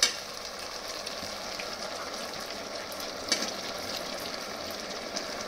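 Cubed onion and capsicum fry in a pan for chili soyabean, making a steady close sizzle with a couple of sharper clatters where the spoon strikes the pan, with no talk.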